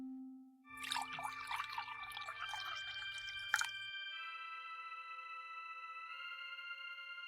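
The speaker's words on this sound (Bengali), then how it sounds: "এবার আমি এই পড়া জল কুয়োর ভেতরে ঢেলে দিচ্ছি" Water poured into a well splashes and trickles for about three seconds, mid-level and close, over steady tonal music that continues alone after the pouring stops.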